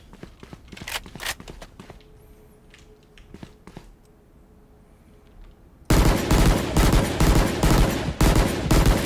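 Bulldog gun firing in a video game: scattered sharp shots and footsteps at first, then a sudden loud run of rapid automatic fire in dense repeated bursts.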